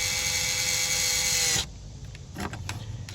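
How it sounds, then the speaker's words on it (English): A power drill drives a screw into a Lionel O gauge model train car, whirring loudly and steadily for about a second and a half, then cuts off, followed by a few soft clicks and handling noises. "You can start the screw, then let the drill finish the rest."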